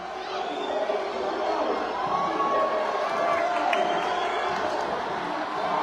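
A crowd at an under-21 basketball game in Isabela roars and cheers continuously, a dense, loud wash of shouting voices with occasional higher yells throughout.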